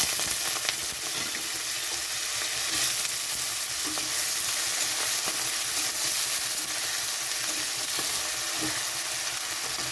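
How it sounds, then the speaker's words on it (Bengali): Potato pieces sizzle in hot mustard oil in a wok with dried red chillies and garlic, giving a steady, dense crackle with soft stirring throughout and no voices. "তো এখানে দিয়ে দিচ্ছি আলু।"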